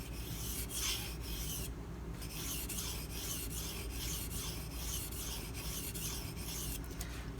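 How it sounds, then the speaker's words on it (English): A Case Southern Grind knife drawn repeatedly across a sharpening stone gives a steady, close rasping scrape with regular stroke-by-stroke pulses, continuous and alone. "as I run it across the stone, my finger drags across the stone as well"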